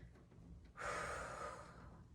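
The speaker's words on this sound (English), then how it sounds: "Take a few deep breaths" A person on a rebounder trampoline takes a deep, audible breath, a quiet airy inhale or exhale that rises suddenly and fades over about a second.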